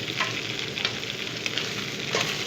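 Green garlic sizzles and fries steadily in oil in a kadhai, a close, continuous crackling hiss with small pops and occasional stirring.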